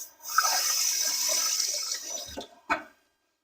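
Tap water runs in a steady stream for about two seconds as hands are rinsed, then cuts off, followed by a couple of short knocks.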